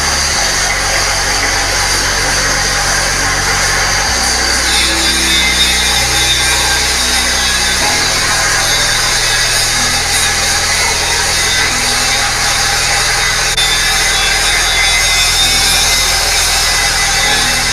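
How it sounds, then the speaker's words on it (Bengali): An electric polishing machine grinds steadily across a bathroom marble floor, giving a loud, continuous motor whine with a rough scraping texture and a few shifts in pitch. "দেখুন পরিষ্কার আরম্ভ হয়ে গেছে, কি সুন্দরভাবে পালিশ করা হচ্ছে"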